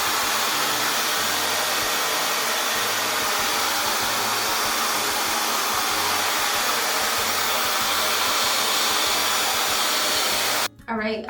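A hair dryer fitted with a diffuser drying curly hair runs as a steady, loud, continuous blowing whir through nearly the whole stretch, cutting off abruptly just before the end.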